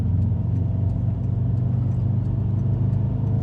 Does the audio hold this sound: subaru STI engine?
yes